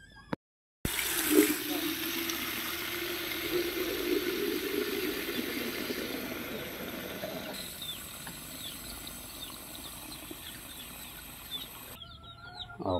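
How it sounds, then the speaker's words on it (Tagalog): Water pours steadily into a container for month-old chicks, a continuous near splashing stream running for most of the stretch, with faint bird chirps and clucks around it. "So lalagyan na natin ng tubig."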